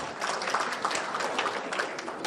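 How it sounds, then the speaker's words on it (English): Attendees at a regional professional conference in Africa clap together before a lunch break, a moderate, steady patter of many hands at middle distance. "You can clap for yourselves."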